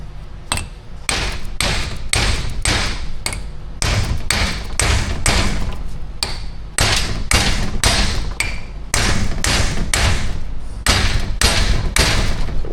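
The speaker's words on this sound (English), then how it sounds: "we're going to impact these with a hammer to try to drive this ring gear off of the housing." Rapid, loud hammer blows on the bolts of a Ford Super Duty 6.0 Eaton rear differential, driving the ring gear off the housing; steady metallic strikes come in bursts with short pauses between them, with no talk.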